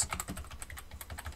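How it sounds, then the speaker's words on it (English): Rapid, quiet clicking of keys on a Mac computer keyboard, an uneven stream of soft taps close by with no voices. "I can't type and talk at the same time"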